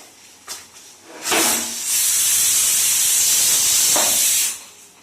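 Steam from a pressure cooker, used to make vegetarian ghugni, bursts out in a loud, continuous close hiss lasting about three seconds before cutting off, after a few light clunks.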